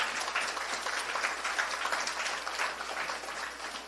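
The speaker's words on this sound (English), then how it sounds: "Give them a resounding round of applause." Steady applause from an audience at the Caribbean Comprehensive Disaster Management Conference in Nevis, a continuous patter of many hands clapping at moderate volume with no speech over it.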